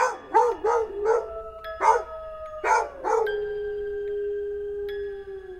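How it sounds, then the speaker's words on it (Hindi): Several dogs bark in quick bursts, then break into drawn-out howls that trail off, clear against a quiet background. "आज ये कुत्ते इतना क्यों भौंक रहे हैं?"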